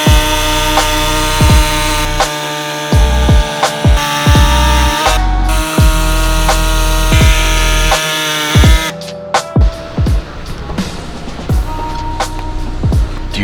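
A saw cuts with a blade that is too fine for the job, giving a loud, harsh buzz in repeated strokes and bursts with short pauses between them.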